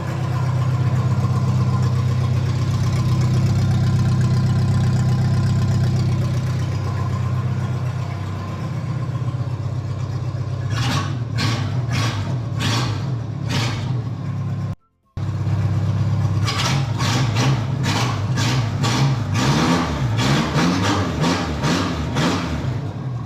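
A car engine runs with no exhaust fitted, a loud, raw, steady idle at first that then breaks into a series of sharp revs and bursts, one brief cutout, then more rapid revving.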